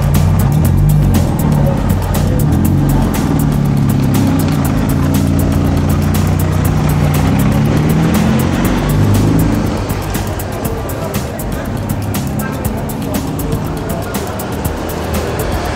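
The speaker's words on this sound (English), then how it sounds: "Mind the car." A car rolls past on a Thai street at night, a loud, continuous close engine and road rush that swells and then eases slightly, with no talking over it.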